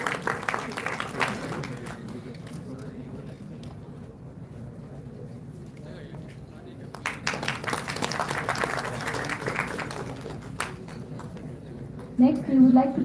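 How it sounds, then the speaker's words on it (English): Bursts of audience applause fill an award ceremony at the Mangalmay Group of Institutions during a memento presentation, clapping swelling at the start and again midway, with an announcer talking over the quieter stretch between. "Let's have a huge round of applause for Harsh sir once again."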